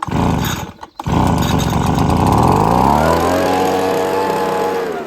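A small two-stroke engine on farm equipment runs at full revs, dips sharply for a moment as the choke comes off, then picks back up and settles into a loud, steady high-revving drone close by.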